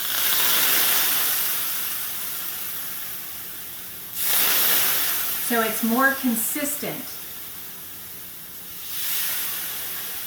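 An espresso machine's steam head hisses in broad, steady bursts, with a louder surge near the middle while someone talks briefly over it.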